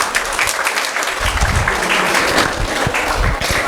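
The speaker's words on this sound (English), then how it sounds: "give round of applause to all the beloved teachers" Students at a school Teachers' Day celebration applaud their teachers, a loud, dense burst of clapping from a large group filling the space throughout.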